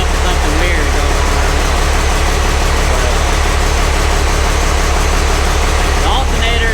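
A freshly rebuilt engine idles steadily and loudly on its first start-up, a constant low rumble with a slight mechanical clatter throughout.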